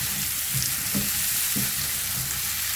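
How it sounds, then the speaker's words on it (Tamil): Brinjal sautés in a pan with a steady sizzle, broken by a few soft stirring scrapes at regular intervals, close and fairly quiet with no talking. "இந்த மாதிரி வதக்கி போட்டோம்னா நல்லா வதங்கட்டும்"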